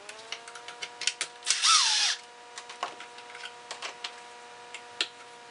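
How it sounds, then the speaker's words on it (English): Plastic clicks and ticks from the air filter being pulled apart on a Husqvarna 240 chainsaw, with one brief scraping rustle in the middle, close and fairly quiet over a faint steady hum. "So let's go ahead and pull the filter apart."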